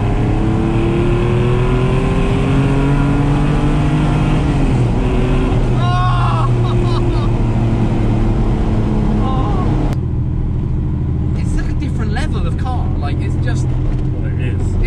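A TVR Sagaris sports car drives with a loud, close engine drone whose pitch climbs and shifts through revs and gear changes. Someone talks over the engine for most of the time.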